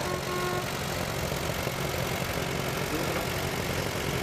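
A 1959 D14 tractor engine runs at a steady idle at a tractor show, a constant rumbling drone that holds loud and unbroken for the whole stretch with no talk over it.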